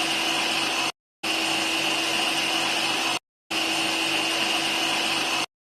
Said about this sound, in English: power switch to start the horizontal bandsaw